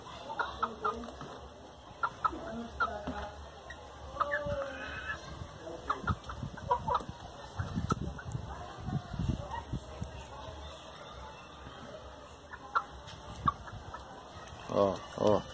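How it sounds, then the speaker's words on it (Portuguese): A young fighting rooster, still a cockerel, clucks and squawks in short bursts at close range, with someone talking intermittently nearby. "Vai ficar um galo danado, vai ficar um galo bom. Galo pra briga."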